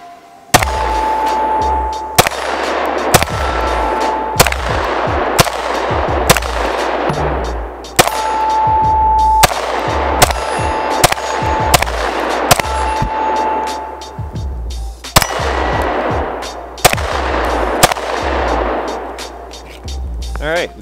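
A Polymer 80 pistol fitted with a Syndicate S2 compact kit fired outdoors, roughly a dozen loud, sharp shots in irregular pairs and runs, each ringing out briefly, with no voice between them.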